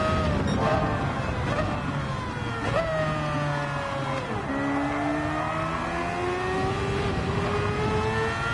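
Race car engine in Gran Turismo heard from a chase camera, loud whining revs climbing through the gears with quick shifts and dips, continuous and up close.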